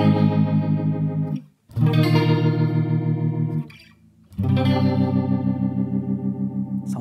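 An electric guitar plays through a rotary speaker effect: loud, sustained chords with a swirling, wavering modulation, in three ringing phrases split by short pauses.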